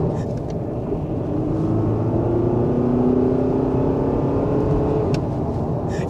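A Volkswagen Golf TDI diesel pulling hard under full throttle, a steady loud engine drone rising in pitch as it accelerates, heard from inside the cabin with no talk.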